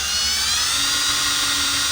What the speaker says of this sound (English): kick your drill back at an angle